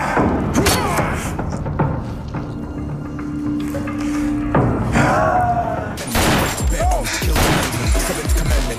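A gunshot in a scene from the crime drama Power lands as heavy booming impacts among loud, dense scoring and sound effects, with several hard hits spread through the passage.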